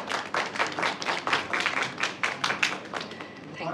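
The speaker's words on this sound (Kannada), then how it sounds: "ಬರಲಿ ಒಂದು ಚಪ್ಪಾಳೆ ಪ್ಲೀಸ್." An audience claps at the unveiling ceremony for a statue of a singer: scattered, fairly sparse hand claps form a loose, uneven patter that thins toward the end.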